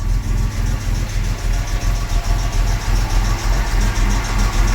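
A 1975 Jaguar XJ6 Series 2 with a rebuilt engine idles steadily up close, its low even rumble carrying a faint rattly tick throughout.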